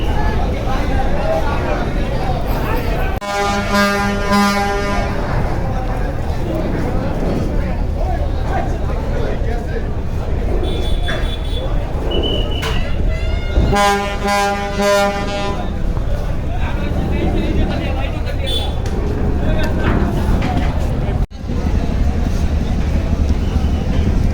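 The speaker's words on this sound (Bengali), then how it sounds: "এই সাইড থেকে ব্যাক গিয়ার দিয়ে যাচ্ছে এমবি মানামি" Passenger launch MV Manami reverses out at Barisal port, its deep horn blasting twice in long harmonic toots that rise over constant engine rumble, crowd chatter and harbour noise.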